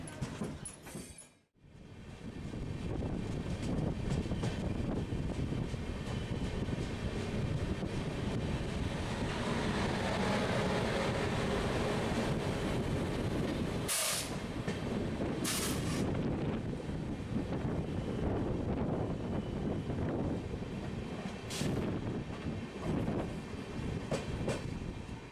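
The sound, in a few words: Pratham Swatantrata Sangram Express train running, onboard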